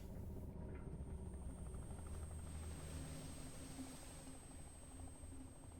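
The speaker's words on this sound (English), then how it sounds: "there goes the helicopter as they all flee" Helicopter in the Dredge video game flying off, a steady rotor thrum and whine that holds at moderate level throughout, slowly easing as it departs.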